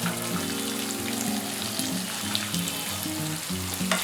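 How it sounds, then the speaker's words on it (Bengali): Chopped onion frying in a pan with oil and asafoetida for masala dosa, giving a steady, close sizzle with faint stirring throughout and no talk. "পেঁয়াজটা একটু নরম ও ট্রান্সপারেন্ট হওয়া পর্যন্ত ফ্রাই করতে হবে"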